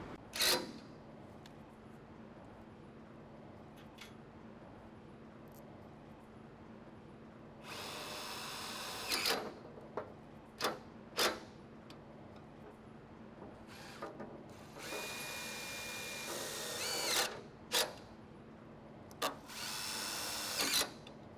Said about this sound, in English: Attach the front end of the tarp to the tarp axle with self-tapping screws.